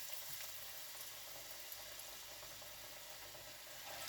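Potato pakoras frying in hot oil in a kadhai, a soft continuous sizzle and bubbling crackle, faint and steady with no talking.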